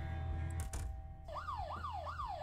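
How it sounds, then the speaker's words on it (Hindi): A police siren in the video game Fears To Fathom Home Alone sweeps up and down in repeating cycles after a short burst of noise, fairly faint and steady over a low hum. "पुलिस के सायरन की आवाज़ आ रही है"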